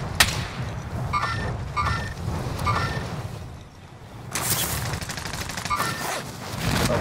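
Bursts of automatic gunfire in Call of Duty: Modern Warfare, loud and close, with rapid rattling volleys at the start and again in the second half, set over a constant low rumble of battle noise.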